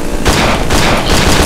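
Rapid bursts of loud gunfire in the horror game Cry of Fear, close and dense, fired in quick repeated volleys with no talk.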